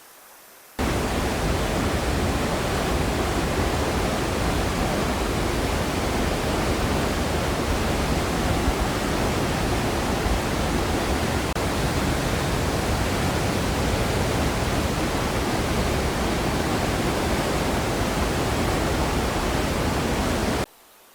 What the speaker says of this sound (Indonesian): Suara gemuruh air dan getaran air yang jatuh ke sungai